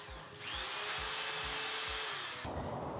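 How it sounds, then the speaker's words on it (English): An old plug-in electric drill with a single bit whirs steadily for about two seconds, boring into a 3D-printed propane tank knob, with a close, high motor whine and faint rhythmic thumping beneath. "all I have is this old plug-in drill with one single bit"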